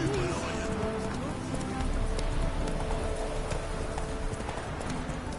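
Horse hooves clip-clop steadily at a gallop in The Witcher 3 video game, the rhythmic beats loud and close over a dense in-game backdrop, with a brief whinny and people talking over it.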